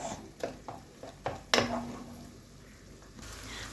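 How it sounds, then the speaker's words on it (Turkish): A few clinks and scrapes in a pan, then a soft sizzle as tomato paste sautés, settling into a low, steady hiss. "Salçanın kokusu çıkana kadar kavuruyoruz."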